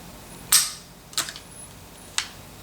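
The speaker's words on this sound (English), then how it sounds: "to take the slide off, you just pull the trigger" Three sharp, dry mechanical clicks from a Kahr PM40 pistol's trigger being pulled during disassembly, close and crisp, spaced irregularly across a quiet background.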